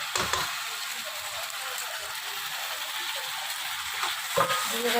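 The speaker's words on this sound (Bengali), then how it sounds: "পেঁয়াজটা লাল লাল করে ভাজা হয়ে গেছে, পেঁয়াজ আদা রসুনের পেস্টটা দিয়ে দেবো।" Onion fried until reddish-brown, then ginger-garlic paste added and stirred in a pan, giving a steady, close sizzle with scraping and clinking stirring strokes throughout, no voices.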